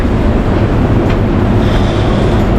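A train at Gothenburg Central Station, a loud continuous low rumble with broadband rail noise and a faint high whine in the second half, no voices.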